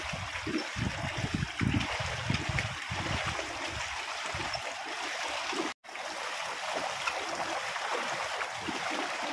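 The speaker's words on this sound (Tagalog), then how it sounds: "Hanggang tuhod na po yung tubig dito sa tubig kuya" Knee-deep high-tide floodwater in Barangay San Juan, Balagtas, rushes and trickles in a steady, loud wash, with gurgling and sloshing close by and no voices.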